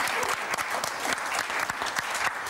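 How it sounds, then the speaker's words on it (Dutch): Studio audience applause on a television show, a dense, steady round of clapping from many people throughout, fairly loud and close with no speech. "En ik wil graag een heel groot applaus voor Ennis Özdal"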